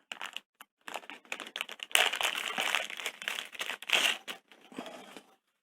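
A plastic Ziploc bag crinkles and rustles in quick, irregular bursts, close and fairly quiet, while knives are being unboxed.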